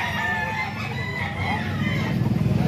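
Gamefowl rooster crowing outdoors, a drawn-out crow over background noise and clucking from other fowl, moderately close.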